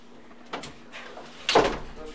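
A house door leading out to a snowy winter garden is opened: a soft clunk, then a louder, close latch-and-swing sound about a second later, over a quiet room with a faint voice in the background.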